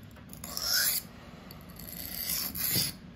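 A REX-45 super steel knife is sharpened freehand on a stone at a low angle, giving two distinct gritty rasping strokes, close and moderately loud, with quieter scraping between them and no speech.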